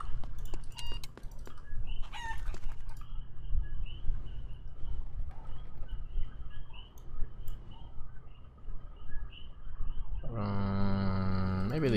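Chickens in the online battle game Eternal Return cluck and squawk in short scattered bursts over a steady low game soundscape, with a brighter louder cackle near the end.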